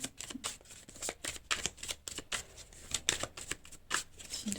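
Tarot cards being shuffled for a card draw, a quick run of crisp riffling bursts and soft slaps repeating steadily, close and fairly quiet, with no talking.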